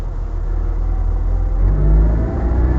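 A 1971 Austin 1300 GT engine hums and pulls at low revs, a steady mid-pitched rumble that swells slightly before easing, heard from inside the car.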